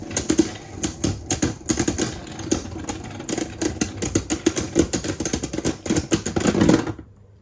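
Beyblade Spriggan, attacking aggressively with its outer rubber, clashes with King Helios in a stadium, making a rapid, irregular run of sharp clicks and rattling impacts that last several seconds, close and busy, before cutting off abruptly.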